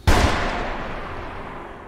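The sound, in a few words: gunshot in a film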